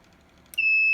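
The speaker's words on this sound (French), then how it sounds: "Fait que là, mon alarme est partie." The buzzer alarm on an automatic maple syrup draw-off valve cuts in abruptly after a quiet moment as a loud, steady, high-pitched electronic beep that holds to the end.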